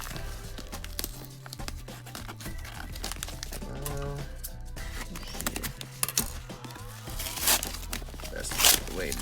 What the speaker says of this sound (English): All right, let's open this little box here.